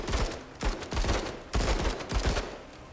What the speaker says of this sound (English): we'll take some shots into the bush